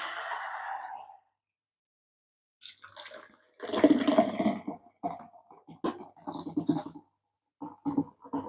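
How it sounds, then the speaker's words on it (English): A hiss as a can of BrewDog Black Heart stout is opened, a pause, then bursts of gurgling, splashing beer as it is poured, with short trickles and glugs. "We'll just open it and pour it."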